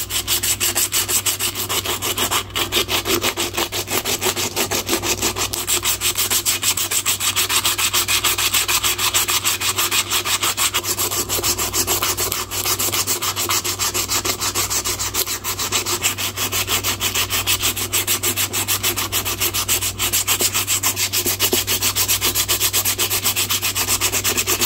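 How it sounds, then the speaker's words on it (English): Knife handle sanded with 60 grit sandpaper to strip the clear coat, a loud continuous rasping rub that runs without pause, close up, with no voices. "Now I'm going to start with some 60 grit, get all this clear coat off of here, and work these edges out a little bit"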